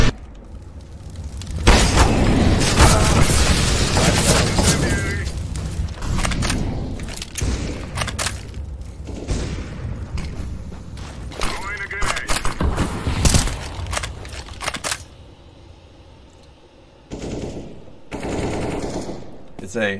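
Gunfire in the video game CS:GO: loud rapid bursts of automatic fire and single shots, with bangs and impacts that come and go over twenty seconds, mixed with voices talking.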